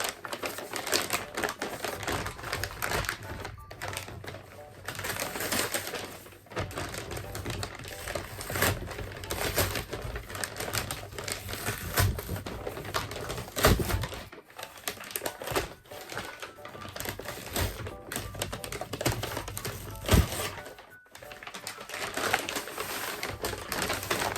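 An Amazon package of shoes is opened by hand, with continuous close crinkling, tearing and rustling of plastic and cardboard and irregular sharp crackles through the whole stretch, with no talking.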